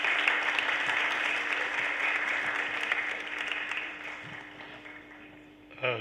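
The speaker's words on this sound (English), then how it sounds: "let's give a big round of applause for Sudha ji." Audience applause fills a hall at the Delhi Literature Festival, a dense steady clapping that holds loud for about five seconds, then thins and fades toward the end.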